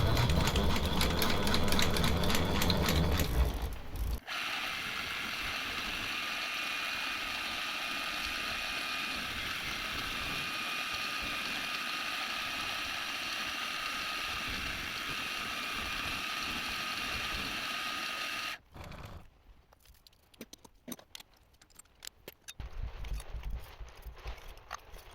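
Milling machine elongating holes into ovals on a mill fitted with a DIY X-axis power feed, a steady mechanical whine and cutting chatter that runs continuously, then breaks into irregular clunks and knocks near the end.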